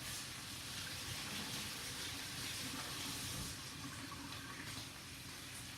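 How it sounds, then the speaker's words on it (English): Water runs steadily from a tap during handwashing in a home kitchen, a continuous broadband hiss that stays even and fairly close for several seconds, with no talking. "Now I gotta wash my hands again."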